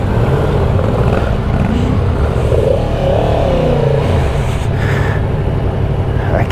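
A 2022 Yamaha MT10 motorcycle engine revs and pulls away in first gear, a loud, steady, close rumble with a rising pitch partway through.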